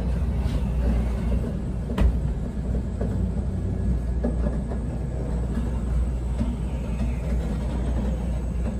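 Interior of a Tokaido Shinkansen high-speed train running toward Odawara: a steady, loud low rumble of the carriage in motion with faint rattles and a brief bump near two seconds, no talk.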